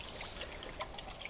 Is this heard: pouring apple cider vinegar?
yes